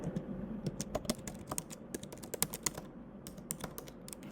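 Quick run of keystrokes on a computer keyboard while entering a website address, crisp close clicks in an uneven rhythm, with no one talking.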